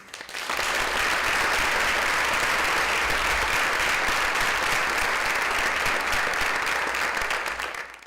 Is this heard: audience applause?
yes